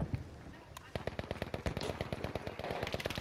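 Machine gun fire in a multiplayer shooter game hammers out a fast, steady stream of sharp, loud shots, with scattered reports before the main burst settles into an even rhythm that runs to the end.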